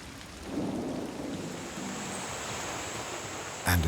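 A rainforest downpour roars as a steady, dense wash of rain close by, swelling slightly after the opening moment and holding constant, with a sharp burst right at the end.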